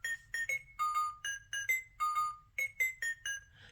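A music box tune from a Barbie interactive button sound book chimes in bright, plucked metallic notes, a quick melody of short repeated tones heard alone at moderate loudness.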